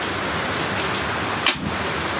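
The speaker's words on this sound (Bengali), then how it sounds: "বৃষ্টির যে কত পরিমাণে আওয়াজ হচ্ছে অনেক ভালো বৃষ্টি হচ্ছে বাইরে" Heavy rain pours down outdoors in a dense, even hiss with no breaks, and a short, slightly louder patter rises briefly near the middle.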